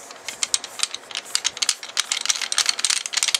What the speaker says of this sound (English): Now we'll screw that back onto the barrel.